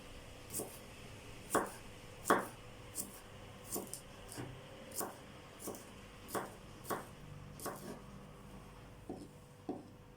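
Knife chopping cucumbers on a cutting board for pickles, a steady series of sharp, faint taps spaced about half a second apart, alone in a quiet kitchen.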